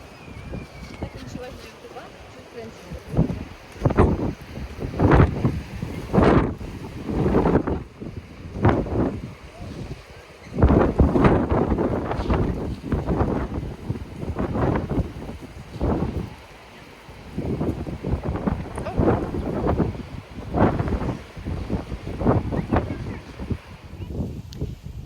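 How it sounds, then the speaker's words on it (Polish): Heavy wind buffets the microphone in loud, uneven gusts on a beach, with a voice talking over the roar throughout. "Jest bardzo wietrznie"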